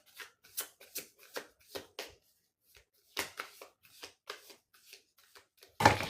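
Tarot cards being shuffled by hand in a series of quick riffling bursts, close and clear, with short pauses between and a louder rustle at the end.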